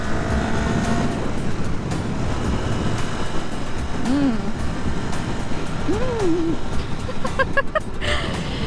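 A steady, loud roar of a Kawasaki motorcycle on the move with rushing wind noise throughout, and a couple of brief vocal whoops.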